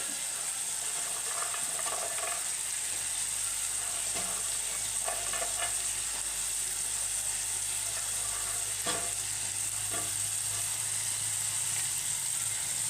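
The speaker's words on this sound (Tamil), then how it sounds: "அப்புறம் வச்சுருக்க கேரட், பீன்ஸ் எல்லாமே போட்டு நல்லா வேகணும்" Carrots and beans cook in a pan with turmeric, a steady close sizzle with occasional scraping and clicking of stirring across the whole stretch, no voices.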